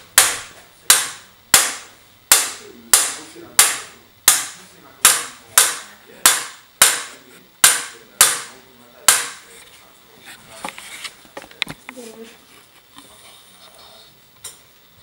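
A hammer's flat face taps on trumpet brass during a restoration, about fourteen sharp, evenly spaced metallic strikes ringing out in steady rhythm, then a few softer, irregular knocks and handling clatter toward the end.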